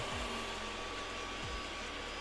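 An Ecovacs Deebot X1 Omni robot vacuum cleaner runs with a steady, continuous motor whir and airflow hiss, with a couple of brief low tonal sweeps as it moves, close by and alone.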